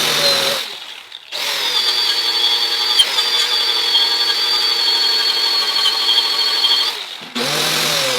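A power buffer polishing an aluminum tube with brown buffing compound, a loud, steady high whine that runs for several seconds, breaks off briefly and then starts again.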